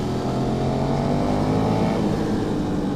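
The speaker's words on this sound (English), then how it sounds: "Oh, this bike just sounds fantastic" A KTM 1290 Super Duke R, a 180 hp naked motorcycle, drones steadily and loud on a wet road ride, its engine note holding an even, continuous hum with slight pitch shifts and no pauses.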